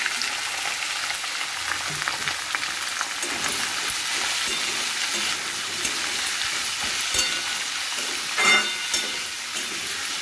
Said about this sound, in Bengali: এটা প্রথমে হালকা একটু ভাজা করে নেব